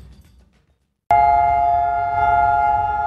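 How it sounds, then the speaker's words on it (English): Israel's Yom HaShoah Holocaust Remembrance Day siren starts abruptly after near silence, a loud sustained steady wail holding one pitch without break. "This siren sounds on this day every year in Israel as the nation stops for 2 minutes for Yom HaShoah, or Holocaust Remembrance Day"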